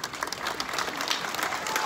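An outdoor crowd at a commemoration of the 1944 liberation of Meaux gives steady, fairly distant applause for the parade re-enactors, a dense patter of clapping with no voices.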